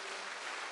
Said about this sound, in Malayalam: ഒന്ന് കൈയടിച്ച് കർത്താവിനെ മഹത്വപ്പെടുത്തു